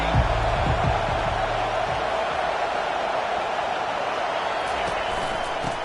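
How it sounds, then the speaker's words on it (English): Broad, continuous stadium crowd roar at an American football game, filling a large space, steady and loud, with a few sharp thumps early on. "This crowd bringing the energy and noise early."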